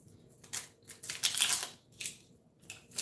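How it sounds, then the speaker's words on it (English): Dry onion skin being peeled off by hand while preparing a breakfast casserole, a series of close, crisp crackling rustles in short bursts. "get that cut, and get all the skin off"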